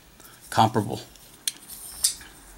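JBB Arrestor flipper knife snapping open: a sharp metallic click and short ringing rattle near the start, followed by two smaller isolated clicks, close and fairly loud in a quiet room.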